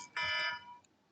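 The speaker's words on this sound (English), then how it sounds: "that's my alarm to wake up" An alarm going off to wake someone up, a bright electronic tone with steady harmonics that sounds for about half a second and then cuts out, loud and alone in a quiet room.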